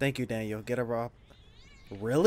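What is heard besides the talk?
cat meowing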